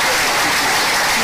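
A dense burst of applause for a government minister at an official inauguration ceremony, a loud, continuous hiss of clapping filling the short moment.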